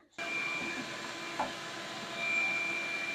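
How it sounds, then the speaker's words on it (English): A shop vacuum hose whirs steadily while sucking debris out of a Ford F150 truck's HVAC housing, a close continuous motor drone with a brief rattling clatter midway and a slight rise in pitch toward the end. "I'll stick a vacuum hose inside here and see if there's any other stuff that I can suck out of there"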